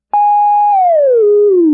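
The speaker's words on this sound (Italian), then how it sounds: "E questo è il suono di un trapezio che vola in giù." A cartoon trapeze swinging downward, heard as one loud, pure whistle-like tone that holds briefly, then slides smoothly down in pitch over under two seconds, alone.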